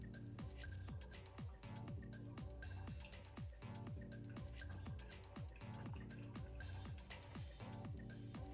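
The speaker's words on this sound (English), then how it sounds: "To this, I'm gonna add 1 cup of freshly brewed coffee." Freshly brewed coffee is poured into chocolate cake batter in a bowl, making a faint, continuous trickle with a rapid run of small dripping plinks.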